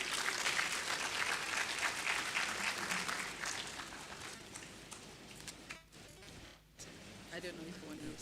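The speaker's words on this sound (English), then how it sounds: "Let's clap for him." A large conference audience claps continuously, dense and fairly distant, with voices faintly beneath the applause as it thins briefly near the end.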